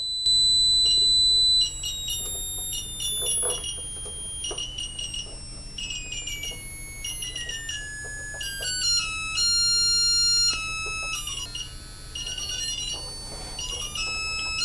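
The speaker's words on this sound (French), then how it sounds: "Ce son est provoqué par la vibration du capteur piezo." A piezo sensor salvaged from an old phone is driven by a square-wave signal and gives a shrill, buzzing electronic tone that keeps stepping and sliding down in pitch, steady and fairly loud, with a faint hum underneath.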